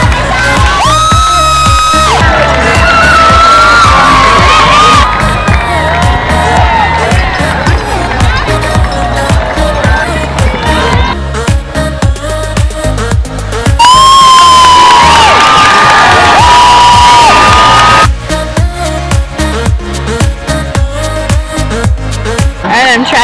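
Spectators at the Boston Marathon cheer, whoop and shout loudly in sustained waves close by, with high children's voices and whistling rising above the roar of the crowd.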